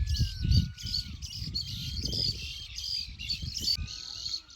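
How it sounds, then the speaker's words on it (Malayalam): Many small birds chirp and twitter continuously all around, bright overlapping calls with a low rumble beneath, in a village in Idukki, Kerala. "ഇവിടെ നോക്കിയാൽ ഒത്തിരി കിളികളുടെ സൗണ്ട് കേൾക്കാവേ"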